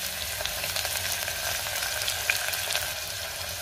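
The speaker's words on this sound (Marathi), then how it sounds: "त्यातच जिरे घालते, कांदा घालूया, कढीपत्ता घालायचा आहे।" Cumin, onion and curry leaves hit hot oil with mustard seeds, producing a loud, dense, continuous sizzle and crackle that holds steady throughout with faint occasional pops.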